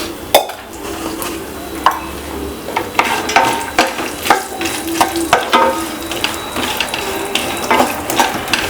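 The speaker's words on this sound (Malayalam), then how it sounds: "ഇനി ഇത് നന്നായിട്ടൊന്ന് മിക്സ് ചെയ്തെടുക്കാം" A poha snack mixture with raisins stirred in a pan: continuous close clattering and scraping of the spoon against the pan over a light fry sizzle, with quick rhythmic strokes and no voices.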